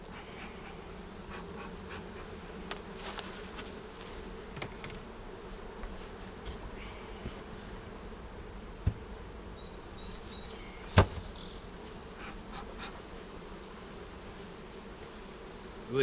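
Honey bees in a comb honey hive's supers give a steady, low, close buzzing hum throughout, with a few faint clicks and taps of hive handling breaking through, no talk.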